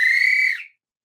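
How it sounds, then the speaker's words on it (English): A single sharp, shrill whistle blast, loud and close, holding steady for about half a second before cutting off into silence. "It's my whistle."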